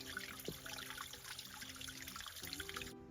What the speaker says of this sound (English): There's a little tiny trickle of a spring here